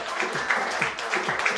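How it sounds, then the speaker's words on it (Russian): Audience applause for a general sponsor at an event in Brooklyn, a steady wash of clapping from many hands with slight swells, fairly quiet and continuous with no talk over it. "Ну что ж, аплодисменты для нашего генерального спонсора"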